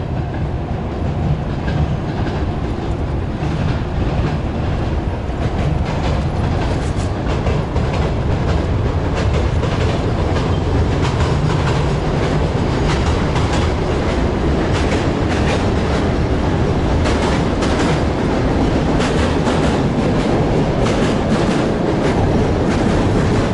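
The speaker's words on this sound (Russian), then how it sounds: "Лязг поезда." A train in Kyiv clanks and rumbles continuously nearby, with rhythmic metallic clatter of wheels on rails, loud and steady throughout.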